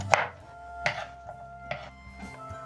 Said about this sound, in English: chop your potatoes into fries